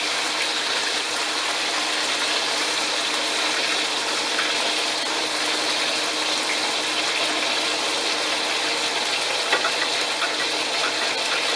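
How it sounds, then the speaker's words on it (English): Szechuan chicken pieces hit hot oil in a wok and sizzle steadily, a loud, dense, even hiss that runs unbroken throughout without voices. "You can hear that sizzle. That's the rest of the chicken going in there."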